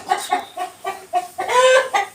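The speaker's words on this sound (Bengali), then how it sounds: "হ্যাঁ, এই দুইটা হলো মোরগ। এখানে দুইটা আছে মোরগ, এখানে আর দুইটা আছে মুরগি।" Roosters and hens cluck in a repeated series of short, close calls, with a louder, longer burst of clucking near the end.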